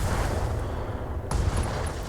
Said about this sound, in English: And that's just an ammo explosion, so he's off the table